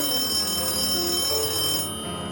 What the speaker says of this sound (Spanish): ¿Estás hablando del teléfono? Sí, aténdelo.